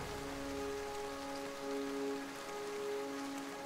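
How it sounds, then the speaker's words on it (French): Rain falls steadily in an even, close hiss of drops with a faint constant hum beneath, with no voices. "La pluie arrive quoi."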